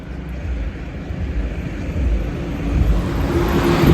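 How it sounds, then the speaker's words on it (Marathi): A truck passes on the mountain road between Kargil and Drass, its low engine rumble and road roar building steadily in loudness as it approaches. "गाडीचा आवाज येतोय बघा, ट्रक गेली"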